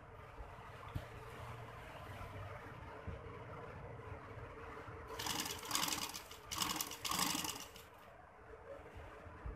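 A sewing machine stitches piping with cord onto a bridal tail maxi dress, running in a few bursts of rapid whirring over quiet room tone.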